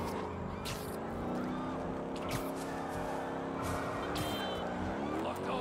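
Cars joyriding through New York streets in Marvel's Spider-Man 2, engines droning steadily with tire noise and passing traffic, loud and continuous under game effects.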